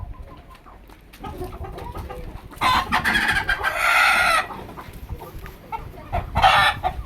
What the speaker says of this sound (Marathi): आपल्या कोंबड्या सोडून देऊत आणि अंडे कलेक्ट करूत